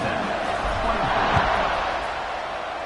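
A stadium crowd in a college football video game with Virginia Tech playing. It gives a steady, broad roar just before a kickoff, with no clear peaks or breaks.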